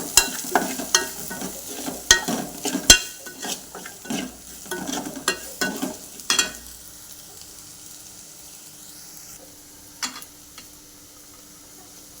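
A spoon stirs chili powder through oil in a frying pan for fish pickle, scraping and clattering in irregular bursts over a soft sizzle, then settling to a quieter fry with an occasional tap.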